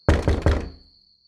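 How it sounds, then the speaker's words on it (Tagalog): Loud knocking on a door: three heavy, closely spaced knocks that ring out briefly and stop, alone with no talk. "mas nilakasan pa nito ang ginawang pagkatok"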